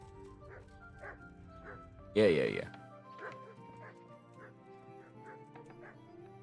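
A puppy gives repeated short yips and soft whimpers, with a louder burst of barking partway through, while people talk nearby.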